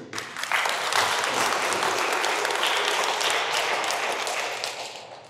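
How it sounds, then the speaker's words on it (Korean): An audience at a Korean Buddhist professors' conference bursts into applause, many hands clapping densely and steadily for a few seconds before fading out. "다시 한번 박수로"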